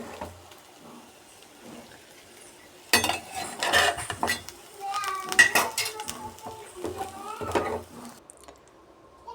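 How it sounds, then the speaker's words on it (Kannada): Cooked kaltappa moved into a metal vessel, with clattering metal pans and clinking utensils in short irregular bursts, fairly close, amid quiet kitchen background. "ಇವಾಗ ಇದನ್ನು ಪಾತ್ರೆಗೆ ಹಾಕಿಕೊಳ್ಳೋಣ"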